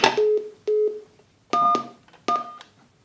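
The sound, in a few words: telephone keypad number button tones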